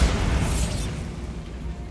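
A Bombarda spell in the wizarding video game Hogwarts Legacy goes off as one brief, close blast that fades out as a low rumble.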